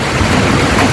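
Heavy rain pours during a Kalbaishakhi storm in a Bangladeshi village, a loud, dense, steady hiss across one brief second.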